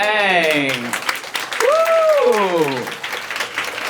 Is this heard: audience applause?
yes